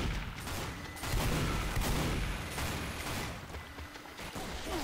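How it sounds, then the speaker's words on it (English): Explosions and gunfire in a Team Fortress 2 match, dense overlapping blasts and shots booming nearby in a continuous loud barrage with no clear talk. "There are a lot of explosions happening near me."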